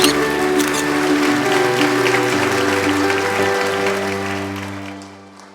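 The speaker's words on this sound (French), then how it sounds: "je crois qu'on peut tous et toutes applaudir très très fort Anne." Audience applause at an exhibition opening for the Wildlife Photographer of the Year show, given for Anne: steady, dense clapping with some tonal background hum, fading slightly toward the end.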